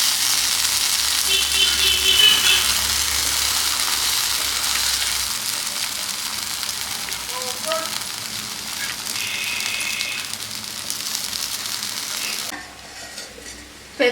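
Brinjal (eggplant) slices frying in a pan, a loud steady sizzle with occasional stirring clatter that eases over time, then drops suddenly near the end as the pan is covered.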